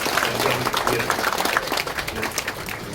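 Warm, steady applause fills a church service at a memorial hall dedication, dense and continuous throughout with some crowd noise mixed in.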